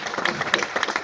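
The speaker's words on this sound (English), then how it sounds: "Can y'all give Kamani a round of applause?" Scattered audience clapping at a business presentation, a brief close burst of a few distinct claps over roughly a second.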